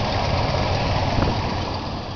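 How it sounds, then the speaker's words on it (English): A Dodge engine idles smoothly after a cold start, a steady low rumble close by with an even, continuous drone and no talking. "Video proof that it does indeed idle smooth enough to balance a nickel on it."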